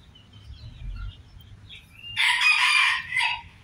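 A rooster that is a cross between a white Leghorn and a black chicken gives one full crow at moderate distance, loud against quiet surroundings with faint low background noise.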